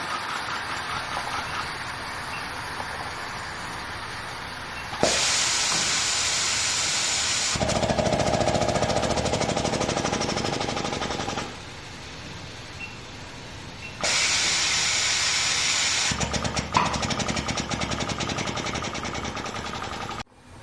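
A HIPPO quarter-turn electric valve actuator runs through its open and close cycle, giving alternating stretches of steady loud mechanical motor hum and grinding, each several seconds long and separated by quieter pauses, with a few sharp clunks where the motion starts and stops.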